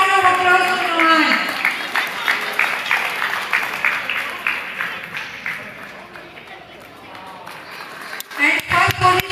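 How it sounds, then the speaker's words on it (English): Applause and crowd noise for a prize winner at a FIDE-rated open chess tournament ceremony in Andaman and Nicobar, steady clapping across the hall mixed with an announcer's voice and chatter, with a louder burst of clapping near the end. "Yes, a big round of applause for Nuhan."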